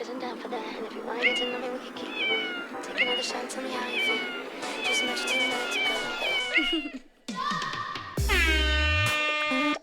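Cartoonish cat meows and caterwauls set to a bouncy game-music tune, loud and continuous, ending in a sustained horn-like blare; a voice talks briefly over it.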